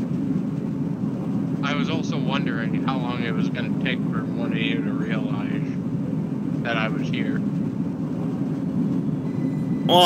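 Amtrak passenger train in motion, a steady low rumble throughout, with people talking over it.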